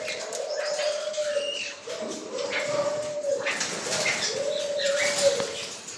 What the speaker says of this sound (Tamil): இது ஒரு விதமான கிளியாக இருக்குது